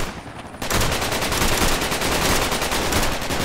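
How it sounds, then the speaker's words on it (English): Sustained heavy gunfire from the Vietnam-era Project Reality video game breaks in suddenly and continues as a dense, loud, continuous barrage. "He's shooting at us, distracted."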